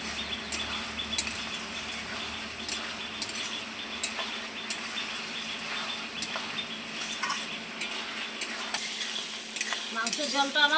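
Mutton pieces for a curry being stir-fried in a pan, a steady close sizzle with repeated scraping and clinks of a spoon against the pan running throughout.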